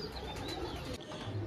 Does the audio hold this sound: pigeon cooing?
yes